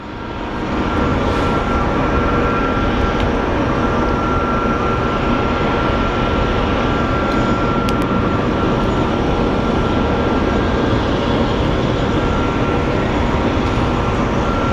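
An Airbus Neo airliner passes at Phoenix Sky Harbor airport with a loud, steady, broadband engine roar that holds throughout after a quick onset.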